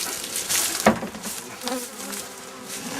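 A dense swarm of honeybees buzzing around an opened hive during a spring inspection, a loud continuous hum with individual bees droning close past, steady throughout.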